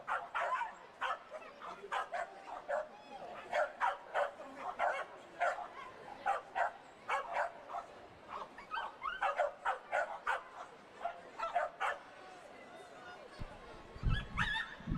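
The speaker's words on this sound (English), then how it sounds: "You can hear the barking and the excitement of these Corgis" Excited corgis bark and yip before a race on the dirt track at Canterbury Park, a rapid run of sharp barks at middle distance over crowd noise, with a voice talking near the end.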